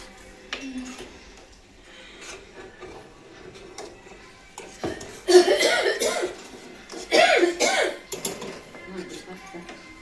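Someone coughs a few times in a home kitchen while vegetables are being cooked, with short bursts of harsh coughing amid clinking pots and faint talk.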